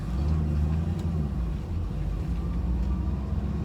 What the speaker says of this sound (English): That car came up on me so fast